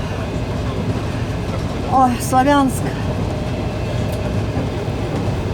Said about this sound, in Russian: Мы ехали в э, эвакуационном поезде Славянск